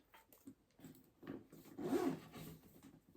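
A quiet, close handbag zipper pocket pulled open in a few short rasping strokes, rising briefly in the middle before trailing off.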